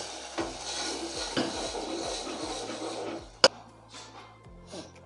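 A lid comes off a cooking pot and food is scooped and moved into another vessel while making Malvani taro-leaf curry, with clinks of utensils against metal, scraping, and one sharp clang midway.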